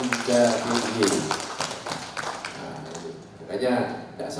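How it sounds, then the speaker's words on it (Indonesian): An audience applauds Pemda DIY, the Yogyakarta regional government, at a benchmarking event, with a burst of clapping that fades into speech, then a second brief swell of claps near the end. "Luar biasa, tepuk tangan lagi untuk Pemda DIY."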